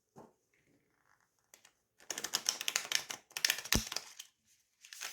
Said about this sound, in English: Yeah, they shuffle beautifully.